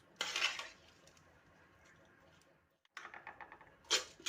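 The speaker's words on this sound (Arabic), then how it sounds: "هبدا انزل ببقيه الرز" Uncooked rice poured into a metal pot for Egyptian baked rice with chicken, with two bright rattling bursts of grains hitting metal, a lull between, then a sharp clatter at the end, close and with no talk.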